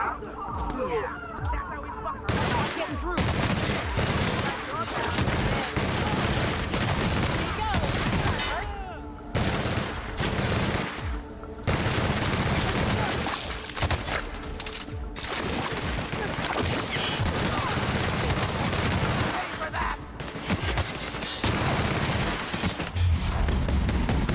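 Dense, continuous gunfire and blasts from combat in the video game The Outer Worlds, loud and sustained throughout with brief lulls, mixed with game voices speaking over the shooting.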